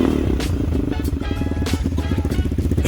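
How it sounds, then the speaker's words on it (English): Several Lifan KP 150 swap engines, KP Mini 150 builds, idle together close by as a loud, steady, throbbing engine drone with a rapid, even pulse. "That one, I have the idle just set low, and it runs perfectly fine."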